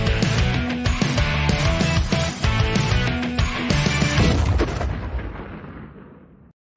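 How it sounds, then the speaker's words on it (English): An explosion bumper sound effect: a loud, dense run of booming blasts and crackling bursts that rolls on for several seconds, then decays into a fading rumble. "Let's do my explosion bumper."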